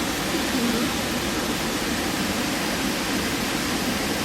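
Bushkill Falls, a waterfall in Pennsylvania, gives a steady, dense roar of rushing water that stays even and loud throughout with no pauses.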